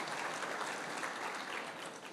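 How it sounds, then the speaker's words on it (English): Audience applause for Kulin Shah and Harsha Agarwal at a session, a fairly quiet, steady patter of many hands clapping that fades slightly at the end. "I require a round of applause for Colleen Shah and Harsha Agarwal"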